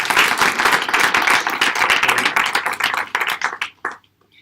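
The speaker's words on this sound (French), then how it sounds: "Applaudissements, s'il vous plaît." An audience at an evening machine-learning meetup claps in a dense burst of applause that thins out and stops after about four seconds.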